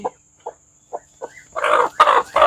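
A brooding hen sitting on eggs clucks in a series of short, soft calls that build into louder, busier cackling toward the end, close by with no other sounds.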